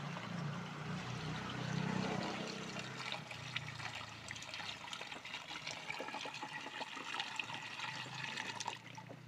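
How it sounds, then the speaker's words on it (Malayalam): Liquid fertilizer is strained and poured into water in a steady, continuous splashing trickle that runs for several seconds, close and fairly quiet, with no talking. "നന്നായിട്ട് അരിച്ചൊഴിച്ചു കൊടുക്കുകയാണ്"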